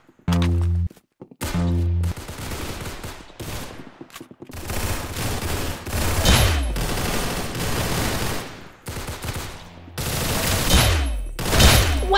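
Rapid gunfire bursts in the Roblox game Arsenal played on mobile, loud and close, with bursts of automatic fire, separate heavy shots and short pauses between volleys.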